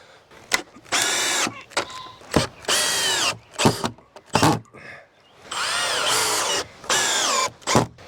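Power drill driving screws through pallet-wood siding into wooden studs, about eight loud close bursts of whirring motor whine separated by short pauses, with no talking.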